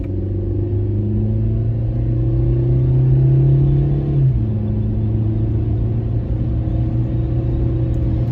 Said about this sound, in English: So we're gonna accelerate kind of hard here, see how our shifts are.